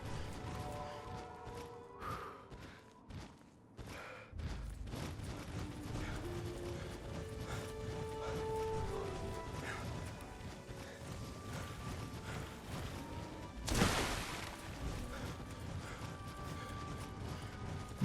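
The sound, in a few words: super mutant footsteps in Fallout video game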